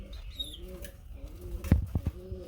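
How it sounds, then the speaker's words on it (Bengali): Gorra pigeons at a farm give soft, low repeated coos nearby, with a burst of wing flaps and a few clatters toward the end. "লেজ সাদা, কলসি গলার মধ্যে এক জোড়া গররা কবুতর।"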